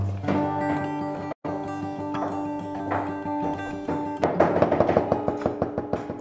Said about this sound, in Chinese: 切菜的声音很好听